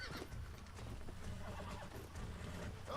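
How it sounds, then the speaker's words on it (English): A horse being broken in Red Dead Redemption on PS3 whinnies and snorts amid a loud, continuous scuffle of hooves and movement, close and busy throughout. "Chill your beans, you stupid horse."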